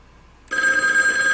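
A Viking DLE 200B two-way phone line simulator drives a telephone bell that bursts into a loud, continuous electronic ring halfway through, after near silence.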